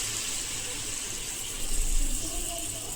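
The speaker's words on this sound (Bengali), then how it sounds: "এবারে দেখো এর মধ্যে দিয়ে দিচ্ছি হচ্ছে গরম জল।" Hot water is poured steadily into a pot of slow-cooked mutton curry, giving a continuous close splashing gush that swells briefly near the middle.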